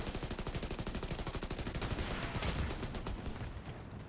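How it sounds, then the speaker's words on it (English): Rapid automatic gunfire rattles at the boss during a Division 2 raid in a dense, loud burst of evenly spaced shots that fades out near the end. "Start shooting the boss."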